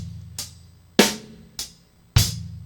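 Drum kit playing a basic groove pattern: four sharp hits with ringing decays over a low sustained drum tone, close and alone, at a slow, even pace.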